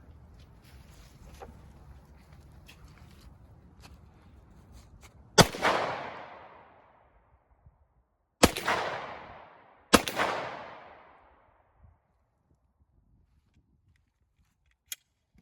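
Three loud, sharp rifle shots from .308 Win and 7.62x51mm NATO rounds, each with a long decaying outdoor echo, spaced a few seconds apart after quiet ambient rustling, then near silence.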